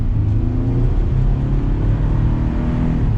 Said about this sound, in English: let's give this a little bit of gas with the V6